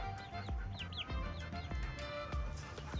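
Chickens of a breed with feathers down to the feet cluck and chatter steadily near and far, with sharp calls over a constant farmyard din.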